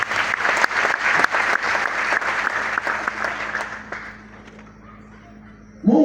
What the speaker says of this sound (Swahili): Pigia Bwana Yesu makofi.